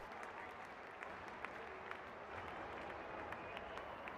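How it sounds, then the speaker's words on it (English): A cricket video game crowd cheers and applauds as the openers walk out, a steady distant roar of clapping held at low level throughout. "greeted with a loud cheer from the crowd."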